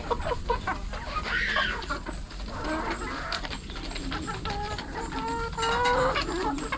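Several chickens cluck and murmur continuously, with occasional higher calls, amid a busy outdoor background.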